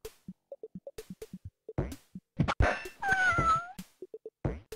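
Two cats meowing in a video game, a rapid run of short synthetic blips and mews leading into a longer, drawn-out wavering meow near the end.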